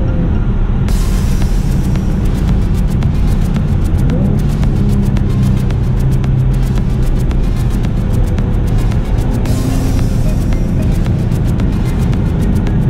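A Cadillac CTS Coupe with a Borla exhaust rumbles steadily in manual mode while driving, a deep continuous engine drone with a brief rise around the downshift, heard from inside the car.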